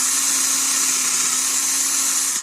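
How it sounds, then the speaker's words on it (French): A drill bores a shallow 2-3 mm hole into a rubber Easycare stud on a Glove hoof boot: a steady, loud, close high whine that runs continuously and stops abruptly at the end. "On fait un petit trou, pas très profond, de 2-3 mm."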